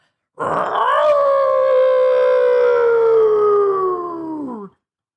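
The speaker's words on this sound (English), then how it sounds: "Brokey just howls" A single long, loud wolf howl from an animated scene rises sharply, holds a steady mournful tone for several seconds, then drops and cuts off.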